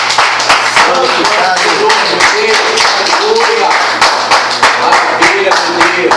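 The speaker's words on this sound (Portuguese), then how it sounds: "Você pode aplaudir a Deus." A church congregation claps steadily and rhythmically in a big group, loud and close, with voices calling out over the applause throughout.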